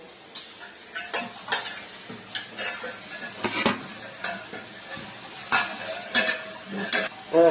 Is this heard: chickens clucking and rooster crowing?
no